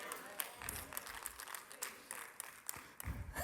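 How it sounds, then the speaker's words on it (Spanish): A church congregation gives quick, scattered applause during a sermon, faint and distant with uneven claps over a low murmur. "aplaudieron tan rápido"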